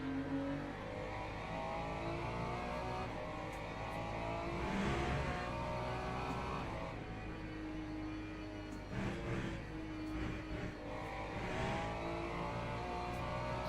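LMP2 prototype race cars in a Le Mans Ultimate race, a steady engine roar with swelling revs and passing surges, continuous and moderately loud.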